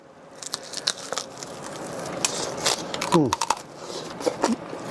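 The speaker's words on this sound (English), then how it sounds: "I'm going to take a bite myself." Someone bites into a hot, fully cooked crispy pork belly, and close, sharp crunches and crackles repeat through the chewing, with a voice speaking over part of it.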